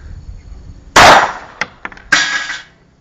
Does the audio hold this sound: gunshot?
yes